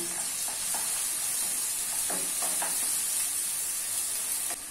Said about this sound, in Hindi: ऑनियन को अभी मीडियम फ्लेम पे गोल्डन ब्राउन होने तक फ्राई कर लेना है।